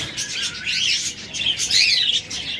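Caged lovebirds, a pair offered for sale, keep up a busy stream of high chirps and twitters, close by and continuous, with no voices.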